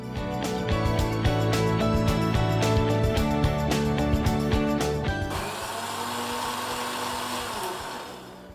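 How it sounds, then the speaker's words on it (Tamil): A mixer grinder whirs loudly as it finely grinds kuthiraivali millet, steady and close, then the rattling tone changes to a smoother, softer whir as the grind finishes. "நல்லா நைஸாக அரைஞ்சிருச்சு"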